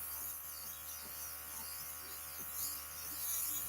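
A makeup airbrush sprays in a continuous fine hiss with a faint steady motor hum underneath, close and even throughout.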